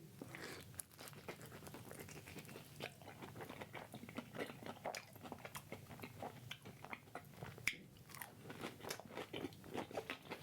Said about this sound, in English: this is definitely needs 2 layers of the egg roll wrapper just to give it a crunch